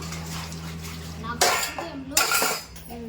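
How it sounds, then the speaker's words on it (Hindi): Dishes and steel utensils being scrubbed and washed by hand at home, with two bursts of clattering and clinking metal over a steady low hum. "देखो इधर हमारी मम्मी देखो बर्तन माज के धोने लगी।"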